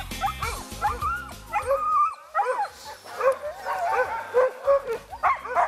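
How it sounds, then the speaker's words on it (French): Sled dogs at a dog sledding camp in Quebec bark and yip in a loud, busy chorus with whimpers and short howls, several dogs close by. "Plus de 50 chiens."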